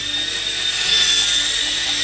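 A Lightrone all-in-one 5.8 GHz mini whoop FPV drone flies close by with a steady, high-pitched electric buzz from its tiny propellers, sustained and even throughout with no talking.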